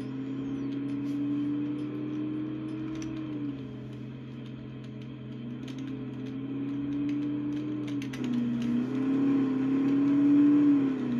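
A BMW xDrive car engine in the Farming Simulator 19 video game, a steady droning hum with a gently rising and falling pitch. It grows somewhat louder near the end, and no one talks.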